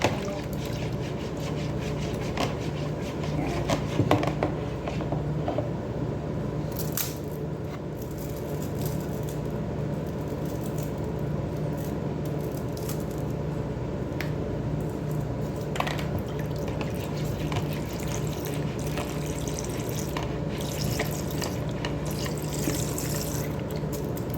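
Milk for a baked leche flan pours in a steady, close liquid stream with trickling and dripping, alone with no talk, for the full length.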